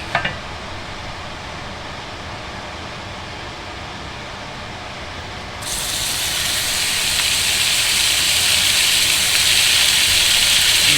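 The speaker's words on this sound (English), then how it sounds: "Got some nice pork fat in there. Now we add the steak." Steak lowered into hot pork fat in a large stew pot sears with a loud, steady hiss that jumps up abruptly partway through and keeps building, alone with no talking.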